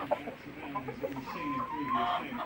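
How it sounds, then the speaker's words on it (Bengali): Chickens at a poultry farm in Tangail cluck and murmur continuously at close range, with overlapping bird calls and a faint background of activity. "ডিমের জন্য খুবই ভালো হবে এই মুরগি"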